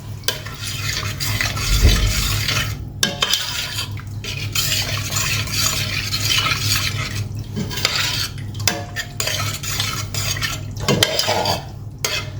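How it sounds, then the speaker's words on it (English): A spoon stirs a pot of curry with chopped tomatoes and warm water, scraping and knocking against the pan in repeated strokes. A faint sizzle runs steadily underneath. "Give this a stir."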